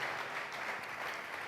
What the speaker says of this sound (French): Comme vous êtes venus, nous pouvons acclamer très fort.